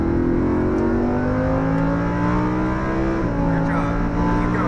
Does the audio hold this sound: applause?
no